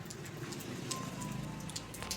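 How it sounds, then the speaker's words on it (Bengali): Steady rain falls on a monsoon day in a Bengali home, a dense, even patter close by with scattered louder drops, continuing alone without talk. "এই যে বৃষ্টি চলছে"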